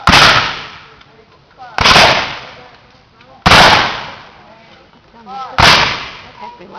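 Civil War reenactors fire muskets by file at a living history event, four sharp loud reports spaced about two seconds apart, each trailing off in a long echoing decay, with faint voices between shots.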